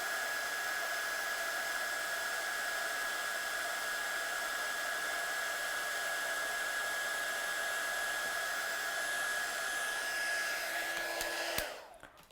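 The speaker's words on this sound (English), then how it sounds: "I'm just going to heat set this one." A heat tool blows continuously for heat-setting embossing powder on a handmade card, a steady high whine with airflow hiss, close and constant, then cutting off near the end.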